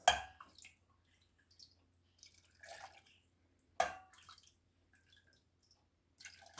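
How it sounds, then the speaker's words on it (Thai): Cooled boiled pickling water being added to a jar of pickled garlic, heard as sparse close splashes and drips separated by quiet gaps, with two sharper bursts of liquid. "เติมน้ำลงไปเลย"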